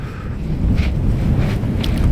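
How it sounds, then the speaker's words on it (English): Gusty wind on the cliff tops at Bennan Head buffets the microphone with a steady, heavy low roar and no pauses throughout. "It's a windy day today, and it's going to get windier"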